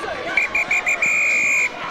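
Referee's whistle at the end of a Celtic Challenge women's rugby match, Wolfhounds against Gwalia Lightning, sounding in several short blasts and then one long blast over a loud, steady stadium crowd cheering.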